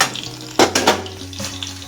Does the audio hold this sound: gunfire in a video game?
no